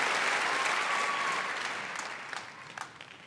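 Audience applause, a dense wash of clapping that fades gradually, leaving a few scattered claps near the end, fairly faint and without voices.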